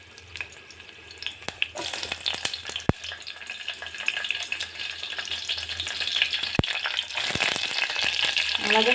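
Cumin, mustard seeds, fenugreek and green chillies frying in hot oil as a tempering for sambar, giving a steady close sizzle and crackle that grows louder over time, with a few sharp pops.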